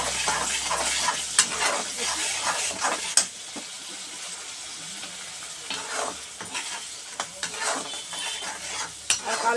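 Vegetables for a fish curry being stirred and sautéed in a hot pan, with steady loud sizzling and repeated scraping strokes of a utensil against the metal, continuing alone without talk.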